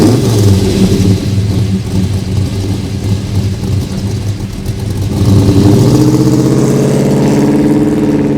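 A 1972 Chevrolet Monte Carlo engine rumbles at a loud, close idle, then revs up and holds a rising, throaty roar as it accelerates.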